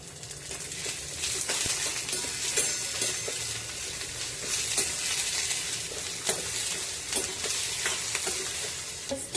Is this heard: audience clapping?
no